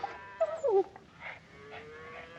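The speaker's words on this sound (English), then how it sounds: "Dang fool dog will have them ticks all over him." A dog on a cattle range whimpers in high, wavering whines, a few short cries up close followed by fainter soft whimpers over a quiet background.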